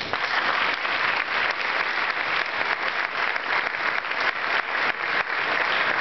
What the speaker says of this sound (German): Rudolf Henkel, Ihr Applaus.